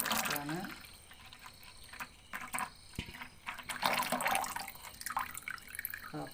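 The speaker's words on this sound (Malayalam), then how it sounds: "ഈ വെള്ളം നമുക്ക് ഇതിലേക്ക് ചേർത്ത് കൊടുക്കാം" Water is poured into a red soap-making mixture, with dripping and trickling bursts that rise and fall under close, ongoing talk.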